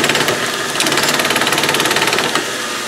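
A Logan metal lathe runs close by with a busy, rapidly pulsing mechanical whir and rattle, steady throughout with a slight jolt near the end.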